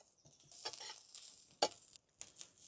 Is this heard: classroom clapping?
no